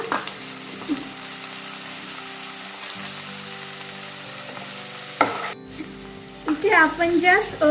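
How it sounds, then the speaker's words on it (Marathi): Chopped tomatoes sizzle loudly and steadily in a hot pan for Punjabi dum aloo, with stirring; the sizzle then drops away and a few brief clattering and tonal sounds follow. "टोमॅटो पण आपल्याला छान परतून घ्यायचं आहे."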